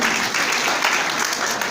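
Steady loud applause from an audience at a training programme, a continuous dense clatter of many hands.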